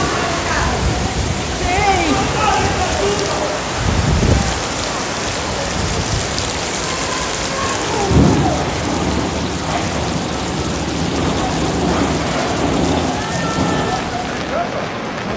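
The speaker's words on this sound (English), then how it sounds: "Gamane continues to bring heavy rainfall" Heavy tropical-storm rain from Tropical Storm Gamane in Madagascar pours steadily and loudly, with deep rumbles of thunder rolling through around the middle; faint voices may be mixed in beneath the downpour.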